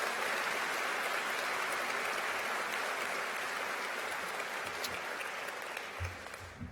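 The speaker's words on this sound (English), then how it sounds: "Big round of applause for these folks who've come to celebrate your accomplishments." Sustained audience applause fills a university graduation ceremony hall, a steady, dense wash of many hands clapping that holds evenly and begins to thin toward the end.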